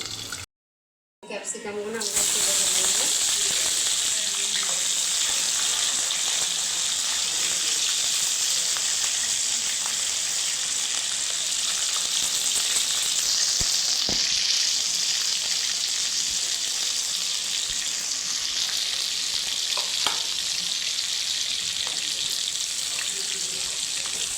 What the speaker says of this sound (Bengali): এই যে টমেটো কেটে নিয়েছি ধনে পাতা নিয়েছি এটা আমরা এখন একটু ভেজে নেবো